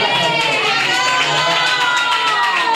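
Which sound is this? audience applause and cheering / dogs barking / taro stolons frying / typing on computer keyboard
audience applause and cheering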